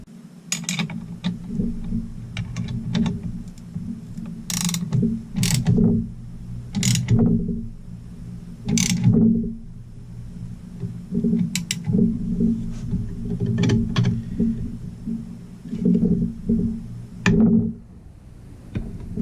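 Repeated metallic clicks and ratcheting bursts from a tool turning a nut to press a crankshaft bearing on a Stihl MS440 chainsaw, close by, over a steady low mechanical hum, with pauses between turns.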